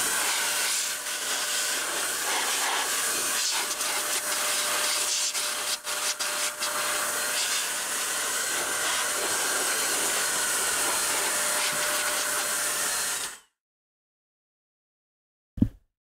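A DATA VAC Electron electric duster blowing dust off the front of an Xbox Series X, producing a loud, steady rushing hiss for about thirteen seconds that stops abruptly, followed by a brief click.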